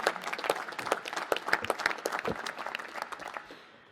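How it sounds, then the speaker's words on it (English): Applause from the audience at a National Space Council meeting, a burst of crisp, close clapping that holds for a few seconds and then tapers away. "Give a round of applause to the Department of Energy."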